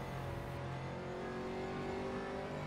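A steady race car engine in rFactor 2 drones throughout at a constant pitch, sounding somewhat muffled and moderately loud, with no voices present.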